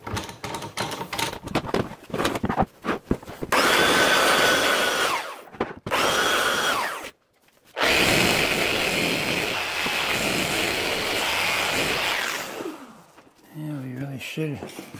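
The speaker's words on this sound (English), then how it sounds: "sand off that piece of thin strip you just put in" A wooden cutting board is sanded down where a thin inlaid strip was glued in, giving long, steady passes of rough, whirring abrasion with short breaks and brief clatter. People talk nearby.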